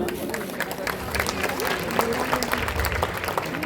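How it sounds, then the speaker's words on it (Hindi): Brief applause from the audience at a school mushaira, scattered clapping heard together with speech and crowd noise in a hall. "हमारी शायरा की तालियों के साथ हौसला अफजाई कीजिए।"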